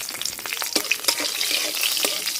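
Nigella seeds and green chilies fry in hot oil, giving a loud, close, continuous sizzle with quick popping crackles and spatters, with no voices.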